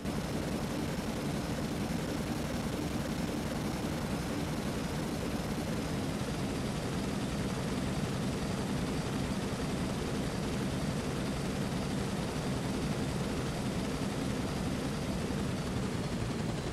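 A smoking, damaged helicopter in a German role-play video game gives a constant, loud, dense engine and rotor roar that stays steady throughout, with no speech.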